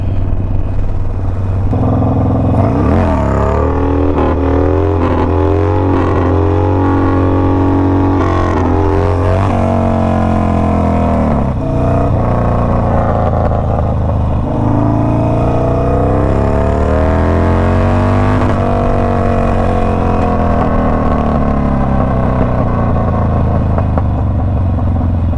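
A motorcycle engine runs loud and close while being ridden, rising and falling in pitch through repeated revving and shifts, with a bike whose transmission slips into neutral and whose rear brakes are worn.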